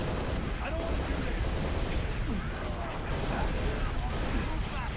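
Sustained gunfire and blasts in a Halo Reach battle, a dense, loud barrage of overlapping shots and booms that continues without pause.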